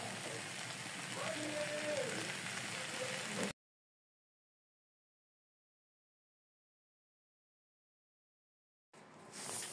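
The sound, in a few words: frying spiced mixture in a pan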